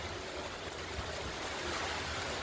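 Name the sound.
heavy rain with strong wind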